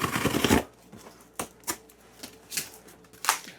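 Packing material torn or cut along a perforated line while packing eBay orders, heard as a burst of crinkly rustling followed by several short, sharp snips and tears at a steady, uneven rhythm, close and alone with no talk.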